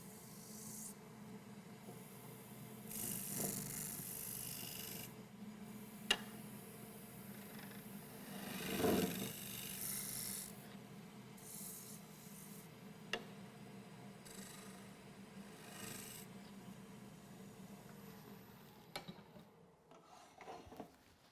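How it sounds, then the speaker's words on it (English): A heavy scraper rasps steadily across a turned wooden bowl in repeated rubbing strokes, quiet and close, with occasional small ticks and clicks. "Then I transfer to a heavy scraper."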